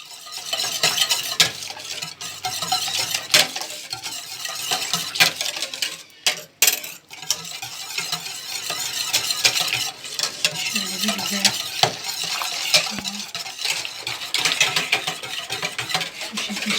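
Milk and sugar whisked together in a bowl for a biscuit cake, a continuous brisk rattling and scraping of the whisk with short pauses and uneven bursts, close and without any voices.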